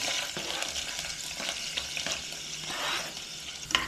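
Chopped onion sizzles in hot cooking oil in a pan, a steady crackling hiss with occasional scrapes and clinks from stirring, close and fairly quiet.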